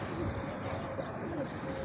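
A pigeon coos softly and low, a faint steady murmur under a constant background hiss outdoors.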